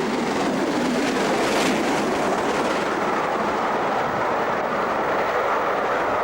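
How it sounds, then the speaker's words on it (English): An express train running along a British main line near the steep Lickey Bank gradient, a continuous loud broadband roar that swells slightly around the middle and holds steady, with no voices. "awaits the passing of an express on the main line"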